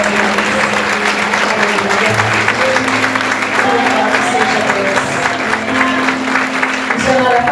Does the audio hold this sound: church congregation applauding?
yes